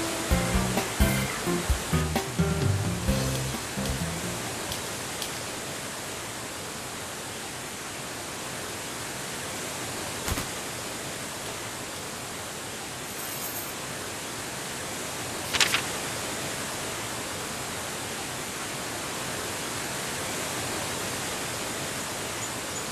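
A waterfall rushes in the video game Deadly Premonition, a steady broadband roar that carries on throughout, with a few brief clicks and soft thuds near the start and a couple of faint ticks later on.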